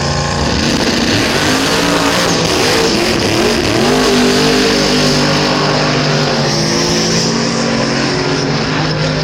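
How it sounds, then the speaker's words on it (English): A KPM Performance Valiant drag car roars loudly at the start line of a drag strip at Willowbank, Queensland, its engine holding a heavy, continuous rumble that rises in pitch partway through, with no voices over it. "we just had Ridley on the start line there, the KPM Performance Valiant."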